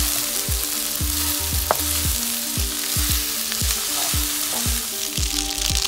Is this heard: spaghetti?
yes